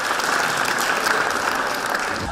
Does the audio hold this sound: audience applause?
yes